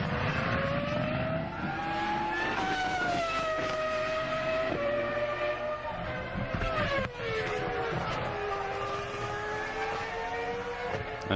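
A Formula One car at practice for the 2002 Brazilian Grand Prix, its high engine whine rising and falling through gear changes and corners, loud and continuous for several seconds with no talk.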